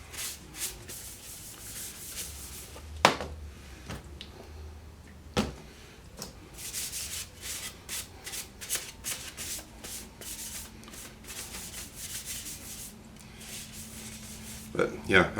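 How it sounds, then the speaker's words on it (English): A Bradford pear wood beer stein is rubbed down with walnut oil finish, giving soft, intermittent scuffing and rubbing strokes up close, with occasional sharper knocks of the stein being handled. "I'm going to finish rubbing this down inside and out"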